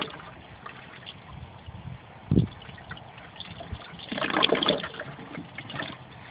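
Water from a barrel aquaponics grow bed drains through a bell siphon into 3/4-inch pipe, a low steady gurgle with a brief splashy gush early on and a louder rushing surge near the end.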